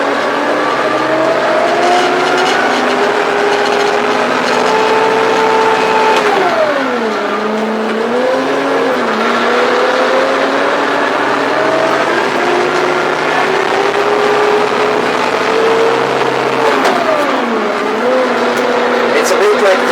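A Zetor Major 80 tractor driven on a road, its engine droning loud and close with pitch rising and falling through gear changes, a voice talking over it at times.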